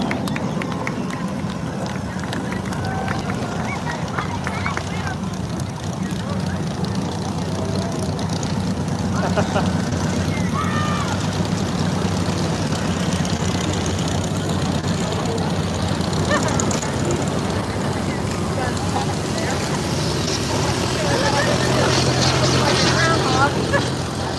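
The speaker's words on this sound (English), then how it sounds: "Albatross taking off." A Czechoslovakian Albatross jet aircraft taking off at an air show, its engine a steady, loud roar that builds slightly toward the end, with voices talking over the noise throughout.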